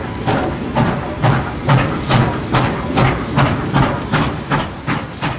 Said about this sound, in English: The steam locomotive leaves the train.